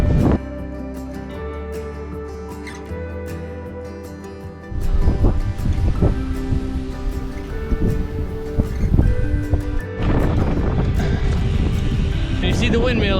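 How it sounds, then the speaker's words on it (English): Strong headwind buffeting the microphone during a RAGBRAI bike ride in open country near turning windmills, a loud continuous rushing roar with gusty surges growing harsher midway, while people talk over it. "Wind is so strong."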